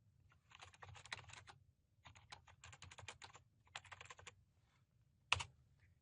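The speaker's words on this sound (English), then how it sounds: "so I can type anything else" Fast typing on a computer keyboard in bursts of rapid key clicks separated by short pauses, ending in one sharp louder keystroke, steady and close.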